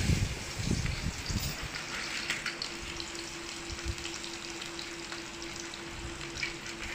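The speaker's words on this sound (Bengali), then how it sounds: "প্রথমে আমি পেঁয়াজগুলো দিয়ে দিচ্ছি।" Onions dropped into hot oil for half-frying, a loud burst of crackle at first that settles into a steady bubbling sizzle with a faint hum beneath, no voices.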